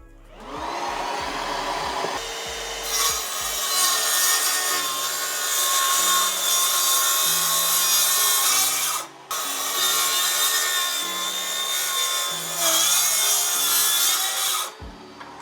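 Power tool cutting through wood in a home workshop with a vacuum attached, a loud steady whining grind lasting most of the time, broken by one brief pause midway, close up with no talking.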